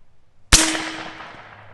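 A single sharp, loud report from an AEA Precision Zeus .72 caliber airgun firing a 440 grain slug, with a brief ringing decay after the crack.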